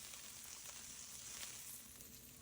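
Peppers stir frying in a hot wok, a continuous soft sizzle with faint scraping as they are kept moving, quiet and steady throughout with no voices.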